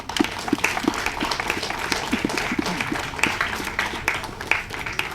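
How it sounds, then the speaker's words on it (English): Spectators at a defence force passing-out parade give the recruits a round of applause, a steady patter of scattered clapping from a mid-sized outdoor crowd. "Could we give them a round of applause?"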